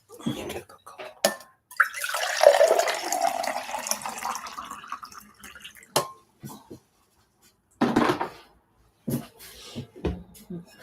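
Cold water runs into a cup from a tap, a rushing pour that rises in pitch as the cup fills, followed by scattered clinks and handling knocks amid quiet gaps.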